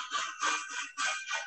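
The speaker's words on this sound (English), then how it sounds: "my phone's ringing." A mobile phone rings during an indoor panel discussion, a rough buzzy warbling tone pulsing in several short bursts, fairly faint, with no one speaking over it.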